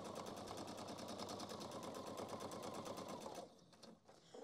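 A sewing machine stitches a seam on a handbag organiser in a fast, even needle rhythm for about three and a half seconds, then slows and stops. It is quiet but close, with no voices.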